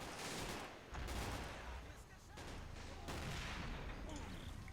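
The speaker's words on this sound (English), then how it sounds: "That mortar is going to get some serious work done though." Mortar and small-arms fire in a World War II real-time strategy game, a dense rumbling barrage of overlapping shots and blasts, fairly faint and continuous, with a commentator talking over it.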